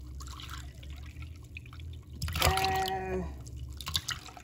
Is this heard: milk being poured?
yes